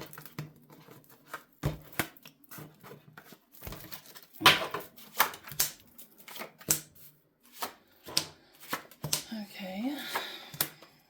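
Tarot cards slip and shuffle in the hands during a reading, making quick, close papery riffles and flutters in uneven bursts, while a voice talks now and then.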